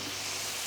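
Chicken wings for hot and spicy wings sizzle in a frying pan as they are flipped, a continuous close hiss of frying with no talking.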